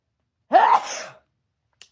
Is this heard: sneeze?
yes